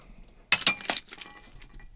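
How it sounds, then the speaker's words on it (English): A glass-breaking impact sound effect crashes in suddenly after a short quiet lead-in, a sharp bright shatter followed by a few scattered tinkling fragments that fade away. "I was going to repeat these impact sounds, but I was going to add some glass."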